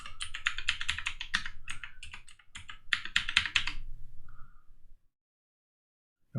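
Rapid clicking keystrokes on a computer keyboard during an Ubuntu server install, a close flurry of typing for about five seconds, then silence.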